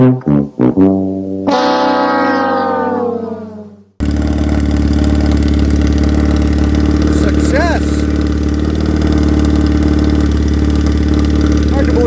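A motorcycle engine idles with a steady, low rumble that runs unbroken and close by, after a brief stretch of shifting tonal sound at the start.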